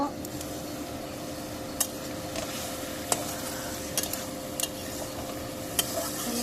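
Drumstick curry being stirred in a pan over a low, steady sizzle, with scattered sharp clicks and taps of the spoon on the pan and a faint background hum.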